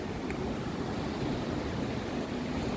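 Rough sea surf breaking along the coast at Hermanus, South Africa, a steady, dense wash of roaring water with wind noise, loud and continuous throughout with no speech.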